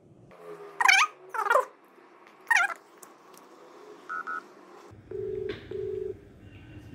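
A phone dials out to place a call, with several short key tones and then repeated ringback tones over a quiet room; brief cat-like cries or chirps mingle with the beeps.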